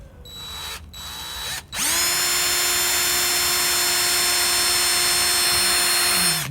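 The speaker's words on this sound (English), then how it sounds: "What we're going to do is to drill a hole right in the very center." A power drill whirs up to a steady high-pitched whine and runs continuously, boring a hole into the center of a wooden dowel, after a couple of brief clicks.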